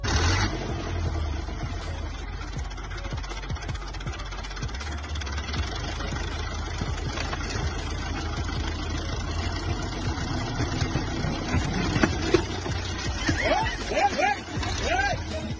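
A tractor engine runs steadily at a low, continuous rumble throughout, with people talking over it and a few sharper sounds toward the end.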